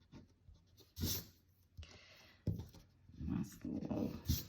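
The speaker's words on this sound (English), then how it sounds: "And then we'll erase inside there." A pencil drawing is erased with short, scratchy rubbing strokes in uneven bursts, close and fairly quiet, with faint background murmur.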